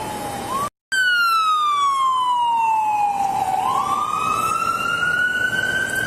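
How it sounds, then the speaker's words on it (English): An emergency vehicle siren wails loud and close, one long tone sliding down and then rising again with bright harmonics, after a brief cut in the sound, with no speech over it. "there's a siren coming."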